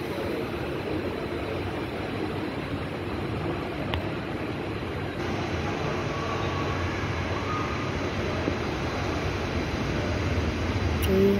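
A train departs on the Uran–Belapur line, rumbling past at a distance, a continuous low drone of wheels and carriages that stays fairly even throughout. No one speaks.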